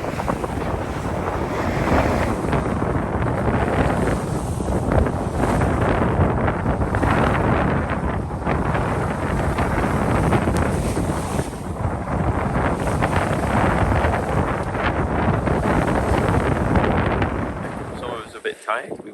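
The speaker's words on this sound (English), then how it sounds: "we've got about 14 knots of wind" Strong wind rushing over a sailing yacht at sea in about 14 knots of breeze, a loud continuous roar buffeting the microphone with waves and hull noise beneath, fading near the end.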